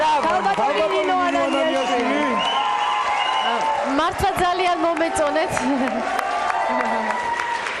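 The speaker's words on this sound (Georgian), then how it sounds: "მეც ვერთდები თქვენ აპლოდისმენტებს" A studio audience at a televised celebrity dance competition applauds after a couple's dance. Steady clapping runs under a person talking loudly over it, with crowd chatter mixed in.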